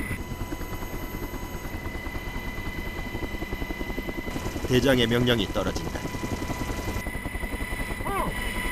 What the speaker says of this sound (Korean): 드디어 강화 지점에 멈춰선 헬기